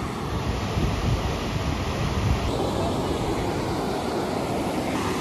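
Near Manali, a river rushes in a constant broad roar, loud and close with no breaks, mixed with wind noise on the microphone.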